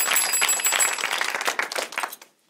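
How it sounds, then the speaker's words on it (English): A small audience at a comedy improv show gives a short burst of close, crisp clapping that fades out after about two seconds. "Everyone give Matt a big round of applause."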